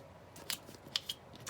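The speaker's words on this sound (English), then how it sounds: "I'm just going to round the edges here" Snips of a corner punch or scissors rounding the corners of a paper journal card, a few short crisp clicks spaced irregularly, close and quiet with no talking.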